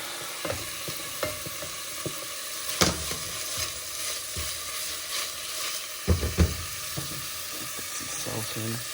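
Garlic sizzling in a pan for pork menudo, a steady crackling hiss broken by sharp clinks of a utensil stirring, with a faint voice now and then.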